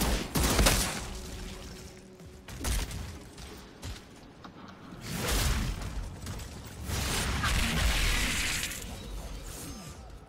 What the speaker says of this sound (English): I'm going to shoot a guy.